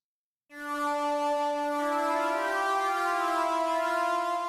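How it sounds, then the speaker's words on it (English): After a half second of silence, a gritty synth lead with tape saturation sounds one sustained tone, rich in bright harmonics. It holds steady and slightly swells for about four seconds, alone. "This time I want a synth lead with tape saturation,"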